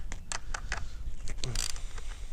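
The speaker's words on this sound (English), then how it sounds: "use our 12 millimeter to grab that bolt right there" A 12 mm wrench works a windscreen bolt on a 2020 Yamaha MT-09 motorcycle, giving a close series of sharp metallic clicks and ratcheting taps in an uneven rhythm.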